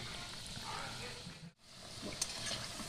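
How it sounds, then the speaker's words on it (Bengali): Gaja, a Bengali sweet, fries in oil over a low flame with a soft, close, steady sizzle, broken by a very short gap partway through. "এটা খুব গ্যাস একদম হালকা করে রেখে এটা ভাজতে হবে"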